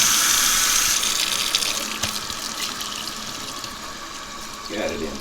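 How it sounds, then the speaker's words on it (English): Warm water runs from an indoor tap while a tie-dye shirt is rinsed, a steady hissing splash that goes on throughout, close and fairly loud, with a brief clatter near the end. "Got it inside now with some warm water."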